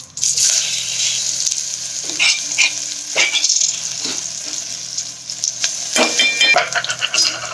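Garlic, cumin seeds and curry leaves sizzle loudly in hot oil in a pan for chakvat bhaji, a steady close hiss with occasional stirring scrapes and spatters over it.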